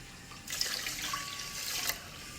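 Plain water poured into a rice cooker while cooking rice to go with lamb meatballs and tomato sauce: a short, close splashing pour of about a second and a half that starts abruptly and then stops, with no talk.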